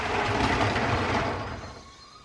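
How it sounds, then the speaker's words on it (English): A modified LEGO City train (60197) with Jacobs bogies rolls along plastic track, a close whirring, clicking run that gradually fades as it moves away over about two seconds. "Oh, train overshot the station."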